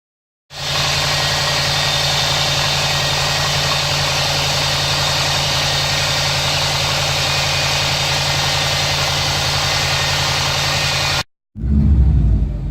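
A Subaru engine idles steadily while warming up, a loud, continuous low hum with even mechanical vibration running unbroken for about eleven seconds before a brief cut to a different, rougher burst of noise.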